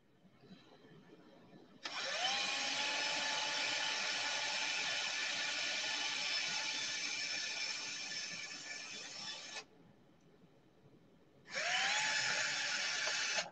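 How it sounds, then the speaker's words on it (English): A small power tool whirs in a craft session on a paper mache hot air balloon, running steadily for about eight seconds, stopping, then starting again after a short pause; a high, even motor whine. "Power tools"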